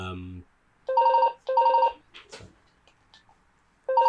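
A telephone rings loud and close in two quick double bursts, then a pause with a brief voice before a third ring starts; the tone sounds like an old-style ringing bell and the voice only briefly interrupts.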